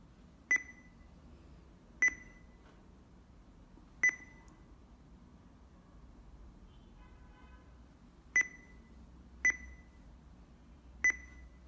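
An Android car stereo head unit gives six short, sharp electronic beeps spaced irregularly over a quiet background hum, each a clean high-pitched tone.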